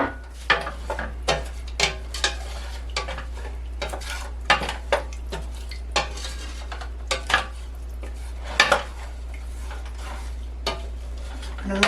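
Rice and seasonings stirred in a pot for jambalaya, with a spoon scraping and knocking against the pot in irregular close strokes over a low steady hum and a faint sizzle.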